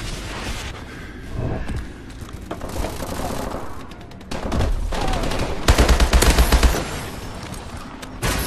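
Video game gunfire in Call of Duty: Advanced Warfare, with bursts of automatic weapon fire, booms and mechanical clatter building to a loud, dense volley near the end, with a player's voice mixed in.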